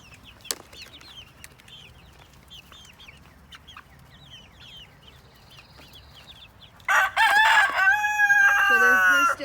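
Homestead chickens cluck softly at a distance over a quiet background, and then a rooster crows loudly and close by for several seconds.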